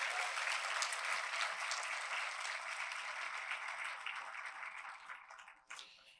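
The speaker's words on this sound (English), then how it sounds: "A round of applause for all of them." An audience at an International Women's Day event applauds in steady, dense clapping that fills the room, fading toward the end with a last brief spatter.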